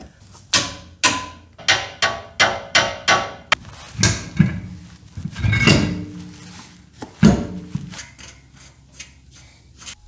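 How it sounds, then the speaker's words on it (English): A wrench works a nut on a 3rd-gen Toyota 4Runner steering rack bushing: a run of about eight sharp, evenly spaced metallic clicks, followed by scattered clunks and scraping knocks, close and fairly loud with no talking. "I'm gonna tighten this to 67 foot-pounds."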